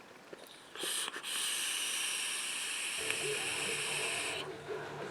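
A MEBmods M-Atty RDA vape atomizer gives a steady, high-pitched hissing whistle for several seconds as air is drawn through it, then stops, close and fairly quiet.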